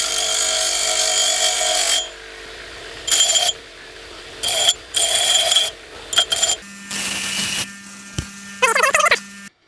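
A small power grinder works on a coax cable connector pin in loud, whining bursts of a few seconds each, starting and stopping repeatedly with short pauses, close up.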